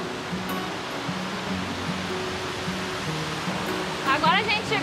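Continuous rushing water roars steadily, a broad even wash of the Cachoeira do Poço waterfall at Ecoparque Sperry in Canela, Brazil, with a faint high chirp near the end.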